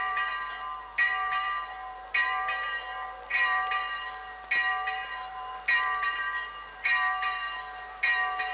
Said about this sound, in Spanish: Son las campanas de las clarisas.